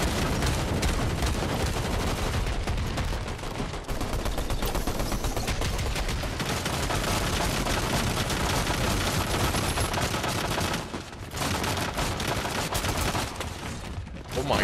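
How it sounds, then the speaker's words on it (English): Explosions and rapid gunfire during a Fortnite battle royale live event, a dense, continuous barrage of blasts and shots that stays loud almost throughout, with a brief dip near the end. "Whoa, careful with the grenades"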